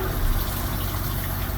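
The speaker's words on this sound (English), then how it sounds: "That groan you hear is our water pump." An onboard water pump on a boat groans with a steady low mechanical drone, continuous and fairly loud with a rough, throbbing character, and no talking over it.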